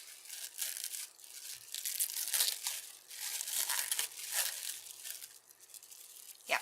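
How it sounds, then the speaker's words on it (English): Plastic wrap being peeled off a Dollar Tree mushroom solar light, a close, continuous crinkling and crackling that swells and fades in waves across the whole stretch. "I'm going to peel the plastic wrap right off."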